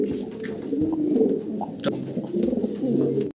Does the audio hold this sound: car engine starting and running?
no